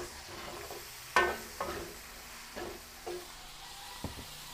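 Onion added to garlic already sautéing in a pan for a Filipino dish, giving a soft, steady sizzle with a few louder stirring clatters, fairly quiet and with no talking.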